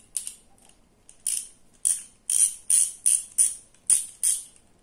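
Ratchet wrenches with extension bars are handled, giving about nine short, sharp bursts of ratcheting clicks. Close and loud, with brief pauses between bursts and no talking.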